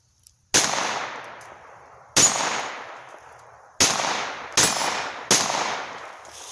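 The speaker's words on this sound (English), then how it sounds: "Pop off a few more rounds here" Five sharp, loud pistol shots from a Luger .22lr C96 broomhandle ring out outdoors, spaced about a second and a half apart, each with a quick crack and a fading echo.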